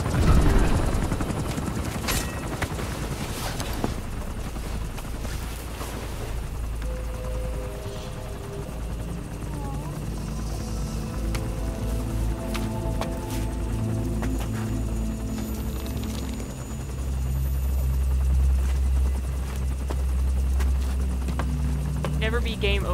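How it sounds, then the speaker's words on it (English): A helicopter in the video game Metal Gear Solid V: The Phantom Pain churns steadily throughout amid game gunfire and effects, with players talking over it. "I'm trying to put him in the helicopter."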